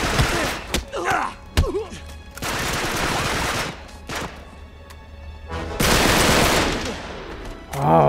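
AK assault rifle gunfire in the Uncharted 3 video game, loud clustered bursts with heavy thuds and crashes, pausing between volleys, with a voice briefly heard among the shots.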